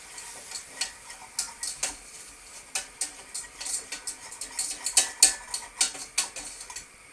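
Flour, butter, salt and pepper sauce stirred vigorously in a pan, a rapid run of rhythmic scraping strokes against the metal over a faint sizzle, close and fairly quiet.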